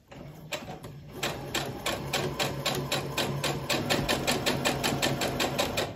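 A sewing machine stitches quilt blocks together in a fast, even run of mechanical needle clatter that starts a little slower and settles into a steady rapid rhythm, close and alone with no voices.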